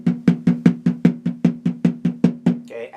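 A taiko drum plays the steady base rhythm (ji), about a dozen evenly spaced, even-volume strikes at a brisk pace. The hits are close and dry, and a brief voice follows at the end.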